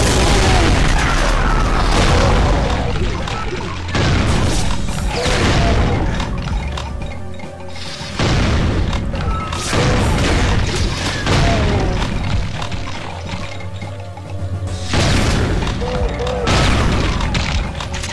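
BFG blasts in Brutal Doom 2, played on GZDoom, erupt as loud, heavy explosions at intervals of a few seconds, each a deep booming crash that rumbles away before the next, with other gunfire mixed in.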